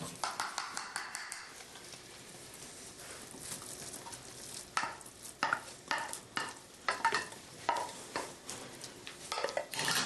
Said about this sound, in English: I'm just going to finish that up like I would any risotto with some good Parmesan cheese. There we go. Stir that in.